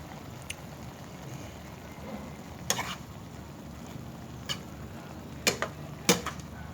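Fish noodles stir-fried in a wok with Chinese cabbage and kale: a steady low sizzle runs throughout, broken by several sharp metallic scrapes and clanks of a spatula at irregular intervals.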